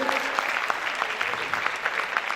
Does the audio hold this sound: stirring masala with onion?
no